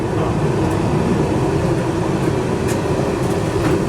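A London Underground 1995-stock train running on the Northern line between Golders Green and Kennington, heard from the cab as a steady, loud rumble and hiss of motion with no speech.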